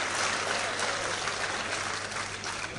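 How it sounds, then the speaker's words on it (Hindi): Audience at a mushaira (Urdu poetry gathering) in Bhiwandi breaking into steady, dense applause that fills the whole stretch at an even level, slightly easing toward the end. "आपने ताली ऐसी नहीं बजाई जैसी भिवंडी में बजनी चाहिए थी।"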